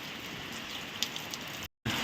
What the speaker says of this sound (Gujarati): વરસાદ જોરદાર વરસાદ આવે છે